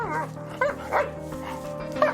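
A dog barks and yips in short bursts while straining on its leash during a walk on a path, with a steady low hum running underneath and no talk.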